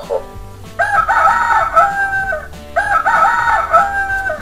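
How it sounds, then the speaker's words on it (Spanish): A Chicco sound farm toy plays an electronic rooster crowing twice in a row. Each cock-a-doodle-doo lasts about one and a half seconds, with a short pause between them. Both calls are loud and close, and no voices are heard. "El gallo rojo."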